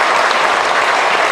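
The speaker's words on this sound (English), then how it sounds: "the momentous occasion received a standing ovation" A parliament chamber fills with dense, loud standing-ovation applause, a sustained wash of many hands clapping at once with no voices standing out.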